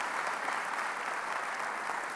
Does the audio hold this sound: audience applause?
yes